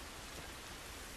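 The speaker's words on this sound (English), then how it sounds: "This rain ain't gonna do us any good." Rain in the video game The Last of Us, a dense, even hiss of steady downpour on surfaces, faint and continuous with no break over the brief moment.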